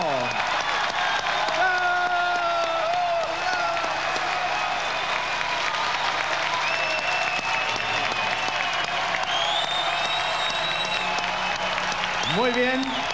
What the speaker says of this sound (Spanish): Atención, aplausos por la pareja integrada por Fernando Razzuri y Soyarzún con María Eugenia Razzuri y Soyarzún.